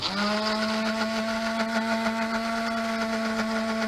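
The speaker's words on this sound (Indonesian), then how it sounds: "Jadi kita blender sampai dia halus." A kitchen blender runs steadily while blending salad dressing, a continuous motor whir with a constant pitch and bright harmonics, loud and close throughout, with no talking.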